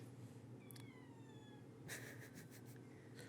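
Newborn kittens give faint, thin meows in a couple of short rising calls, heard from a distance beneath a steady low background hum, with a brief rustle partway through.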